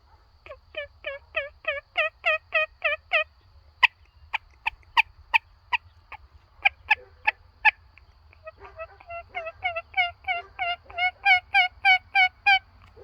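A mouth call imitates a turkey with loud, rapid runs of yelps and clucks in several bursts, with short pauses between the series.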